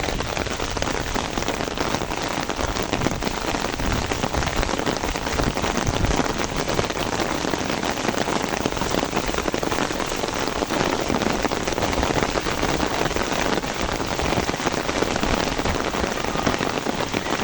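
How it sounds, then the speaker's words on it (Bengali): Heavy rain pouring steadily at an outdoor fishing spot, a dense continuous hiss of drops hitting surfaces with no pauses, loud and close. "তো দেখতে পাচ্ছেন যে প্রচুর বৃষ্টি"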